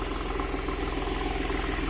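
A Porsche 996 Carrera idles with stock exhaust and aftermarket tailpipe tips, a steady, even engine rumble with light mechanical clatter, close and continuous throughout.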